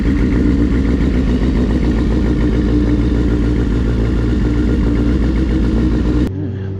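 Motorcycle engine idling steadily just after a cold start on an overcast mid-40s day, a loud continuous close-up rumble that cuts off abruptly near the end.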